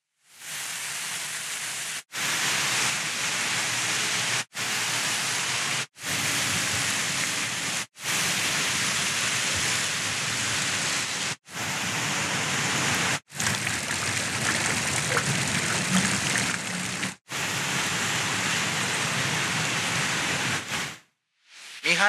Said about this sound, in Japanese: なんだか噴水の音がするんですけど